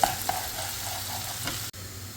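Chopped onion frying in hot oil in a home kitchen, a continuous bright sizzle with soft scraping strokes of a stirring spoon, close up and alone, briefly cutting out near the end.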